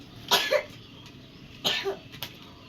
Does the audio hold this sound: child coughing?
yes